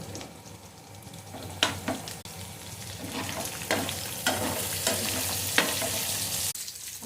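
Fish frying in a pan with coriander, a steady close sizzle broken by several sharp scraping stirs of the spoon against the pan.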